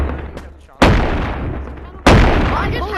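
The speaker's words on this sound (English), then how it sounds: "Is that a shotgun?" Two loud, close shotgun blasts in the VR game Animal Company, each a sharp boom with a long fading tail, about a second apart, while faint voices talk underneath.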